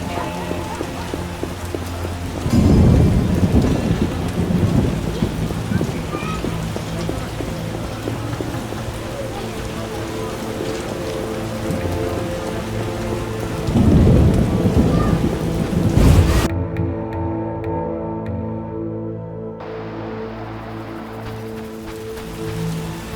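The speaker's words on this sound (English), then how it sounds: "What a downpour!" Heavy downpour and rolling thunder in a stormy medieval city in The Witcher (2007) video game, with steady rain hiss and two loud thunder rumbles, then the rain sound abruptly thins out near the end.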